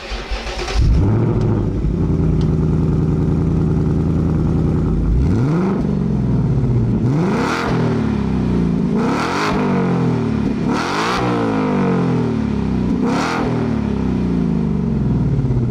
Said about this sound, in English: What you are about to hear is the all-new 2024 Mustang GT exhaust note.